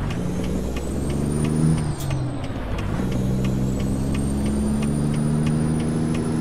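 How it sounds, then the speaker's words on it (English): A truck engine brake in American Truck Simulator drones as a steady low rumble, with a pneumatic air-brake hiss near the two-second mark and a rising whine throughout, close and continuous with no speech. "that engine brake wasn't doing anything for me"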